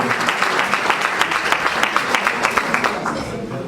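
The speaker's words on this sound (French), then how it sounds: "On va applaudir s'il vous plaît" A crowd applauding at a diploma ceremony, steady dense clapping throughout with rhythmic louder claps standing out, while a voice speaks over it.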